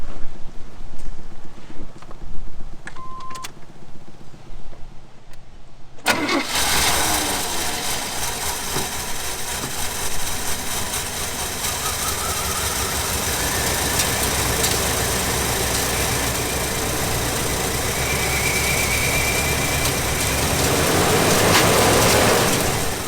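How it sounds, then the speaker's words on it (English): An old Chevy truck engine, long left in the woods, fires up abruptly after a quiet stretch and settles into a loud, steady, roaring run with a whirring fan, continuing alone without talk. "crank it"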